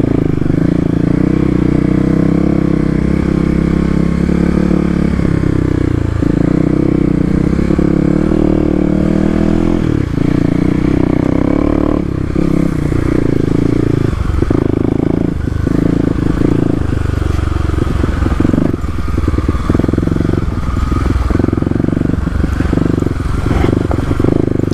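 A Kawasaki KLX250 dirt bike rides off road over rocks, its single-cylinder engine droning loud and close with shifting revs, while scrapes and clatter from the rocky trail break in throughout.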